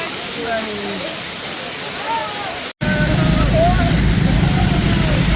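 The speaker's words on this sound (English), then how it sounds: "Got this gorgeous waterfall." A waterfall roars with a steady rushing hiss that grows louder midway, while voices murmur in the background.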